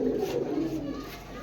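A pair of black long-necked Gorra pigeons give a soft, low, throaty coo, faint and brief against a quiet background.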